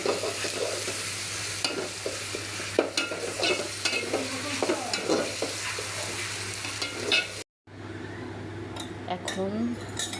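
Fish being stir-fried in a pan with ginger-garlic paste, ground spices and bay leaf: steady sizzling with repeated scraping and clinking of a spoon against the pan, a brief cut near the end, then stirring resumes.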